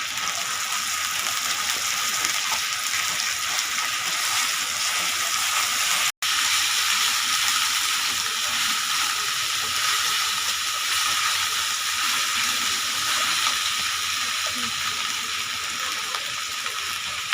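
Onion paste sizzling in hot oil in a pan for katla fish curry, a loud, continuous hissing fry that holds steady throughout, broken only by one momentary dropout, with no talking.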